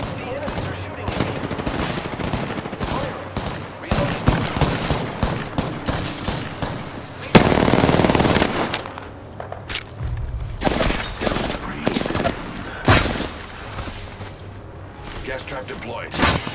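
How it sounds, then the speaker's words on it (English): Rapid automatic gunfire and booming shots fill a match of the video game Apex Legends, with dense, continuous volleys throughout and one especially loud burst near the middle. "The enemies are shooting at me."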